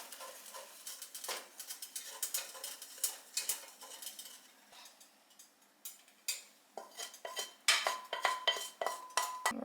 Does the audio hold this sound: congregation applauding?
no